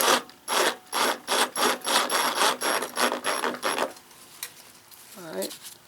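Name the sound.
tightening lawn mower blade bolt with ratchet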